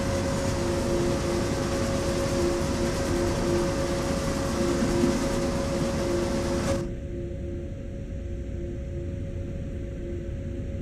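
A high-speed freight train runs through German cities in the Train Sim World Ruhr-Sieg Nord simulation, giving a steady loud rumble with a sustained hum and tonal whine, then the upper hiss drops away abruptly partway through while the low drone continues.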